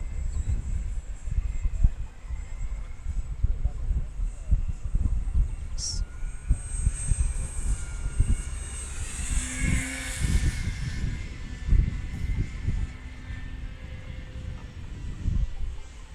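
A Dynam Cessna 188 RC crop duster plane flies overhead on a windy day, a faint thin propeller whine rising and fading through gusty wind noise and footsteps outdoors.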